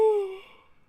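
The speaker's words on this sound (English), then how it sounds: "I gotta stop yawning when I do these videos." A single short voiced yawn, close to the mic, starts strongly and falls away quickly into quiet.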